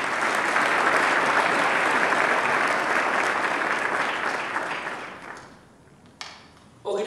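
Audience applause at a 2012 Niagara Foundation award ceremony in Ohio, a full steady roar of many clapping hands that fades out over the last couple of seconds, followed by a brief thump near the end.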